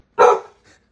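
One loud, close bark from a dog that is scared of balloons, followed by a faint short whimper.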